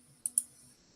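A computer mouse gives two quick, close clicks in succession while switching between browser tabs, with a faint background hum.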